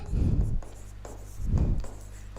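A pen or marker writes out the solution to a coordinate geometry problem for a Class 10 lesson, heard as two close, scratchy strokes with a short pause between them.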